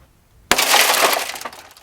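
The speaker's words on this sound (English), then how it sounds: "We press this in against tempered glass on a car window," Tempered car window glass shatters with a sudden loud crack, followed by a dense crunchy spray of tinkling fragments that fades over about a second and a half.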